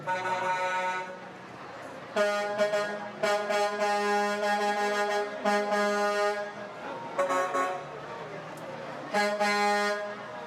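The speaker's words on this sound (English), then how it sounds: "So glad to have Mike, his trucks, and their horns here" Truck horns at the Dallas Christmas parade blare in long, loud honks, several in a row with short gaps between them, over crowd noise and faint talk.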